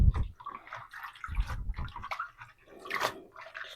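Freshly harvested lettuce leaves swished by hand in a basin of water, close sloshing and splashing in uneven bursts with brief pauses.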